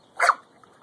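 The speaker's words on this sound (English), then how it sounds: "Stupid dog." A dog gives a single short, sharp bark at a lemon, close and fairly clear, followed by quiet.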